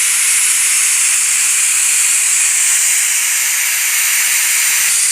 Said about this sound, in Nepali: अब यसमा सिटी लाग्न लाग्छ कुकरमा पनि।